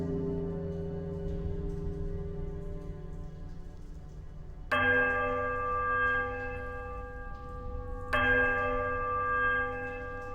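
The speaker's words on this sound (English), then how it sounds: "a sudden dissonant toll sounds from the bell" Bells tolling in the fantasy game Pillars of Eternity: a sustained bell drone gives way to two loud, sudden dissonant strikes with ringing overtones, each decaying slowly in a quiet room.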